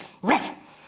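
A single dog bark, loud and close, standing alone as a sound effect in a Kazakh folk tale about animals.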